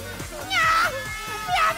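A person imitates a cat's meow during a sound-guessing game show segment, two drawn-out vocal meows rising and falling, with busy studio chatter and other voices underneath.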